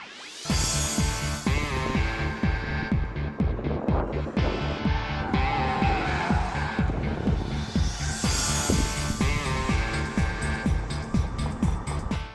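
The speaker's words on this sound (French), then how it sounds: "Aujourd'hui, on se tape la Chevrolet Volt sur un circuit." A Chevrolet Volt is driven hard around a race circuit, its loud, steady electric-drive drone and tire roar rising and falling continuously in the foreground with pulsing, throbbing texture and no voices.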